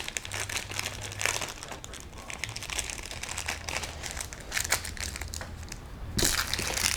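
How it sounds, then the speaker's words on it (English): A plastic parts packet for a Tamiya Mudmad 1/24 radio-controlled truck build being rummaged through, with bursts of crinkly rustling and crackling close up, plus a low steady hum underneath and no talking. "Sorry about all the rustling"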